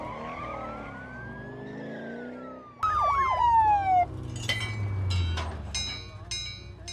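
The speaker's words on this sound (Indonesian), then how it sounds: "Tiba-tiba datanglah mobil yang melintas melebihi kecepatan standar yang telah ditetapkan, dan polisi itu pun langsung mengejarnya." Police car siren wailing in pursuit of a speeding car in the film Wolf Creek 2, first a rising and falling tone, then a louder, faster yelp over engine rumble and scattered sharp effects.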